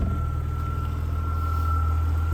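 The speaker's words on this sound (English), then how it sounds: "I've got the engine running, so you can hear that legendary." A 1999 BMW Z3 2.8 manual idling with its engine running, a steady low hum with a faint constant whine above it, even and unchanging throughout.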